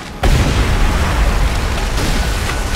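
Loud burst of gunfire and booming blasts in Call of Duty: World at War, a dense continuous barrage starting abruptly after a brief quiet.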